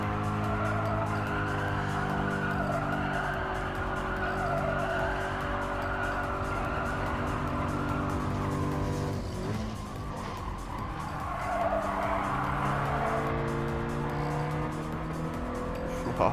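Race car in the GT Sport game slides and skids with a loud, continuous engine roar and tire squeal that shifts pitch as it goes through the corners, with no talk.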